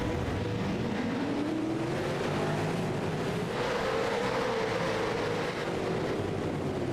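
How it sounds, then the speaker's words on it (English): Several V8 racing car engines in the iRacing video game rev and drone together at steady volume on the Belle Isle circuit, their pitch rising and sweeping as they accelerate, with no voices. "And you hear it, guys. Revs are up."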